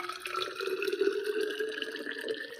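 Hot drinking water poured into a container, a steady trickling stream with a rising tonal ring as the vessel fills, close and moderately quiet, with no talk.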